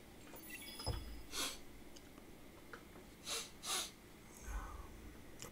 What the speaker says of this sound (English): Apologies again for the coughing and sniffling.